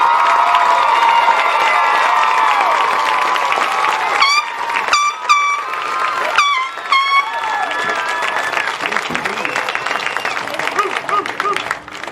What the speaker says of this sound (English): Let's have a round of applause for our first row.